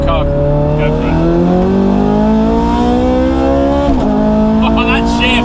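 A Ferrari 430 Scuderia pulls away hard, its engine note climbing steadily through the revs with a sharp gear shift near the end, loud and close with a voice briefly over it.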